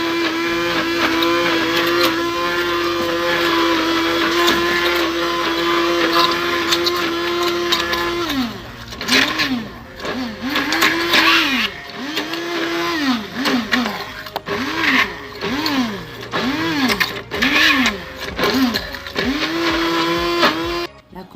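Blender whirring through cooked figs for fig jam, a loud close motor that holds a steady pitch and then pulses on and off in repeated surging bursts that rise and fall.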